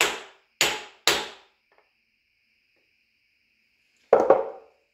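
Hammer tapping a metal workpiece to seat it on parallels in a milling machine vise: three quick sharp knocks, then silence, then a final double tap, crisp and close.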